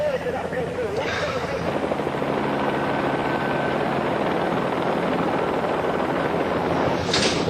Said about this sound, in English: The helicopter directs a police dog handler to the passenger.